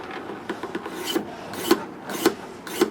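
A file works along a wooden fingerboard in short, evenly spaced rasping strokes, each ending with a slightly sharper scrape, close and clear with no talk.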